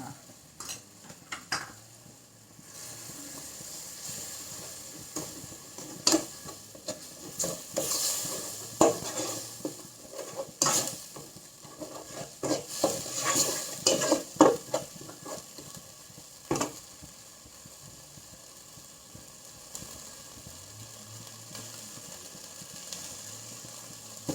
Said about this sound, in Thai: พริกแกงนี่ยโสก็ใช้สองช้อนโต๊ะนี่ค่ะ ผัดก่อนค่ะ